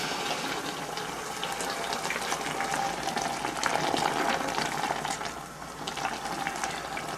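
Papa John's special garlic butter sauce hits a hot pan during home pasta cooking: a continuous sizzle and bubbling hiss, steady and fairly close, with a brief surge partway through.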